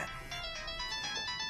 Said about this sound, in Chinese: 你电话。